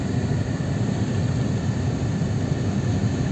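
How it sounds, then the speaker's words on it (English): A model plane flying overhead in an early-morning island setting, a continuous broadband engine drone that stays steady and fairly loud throughout, with no talking. "There's the model plane flying again."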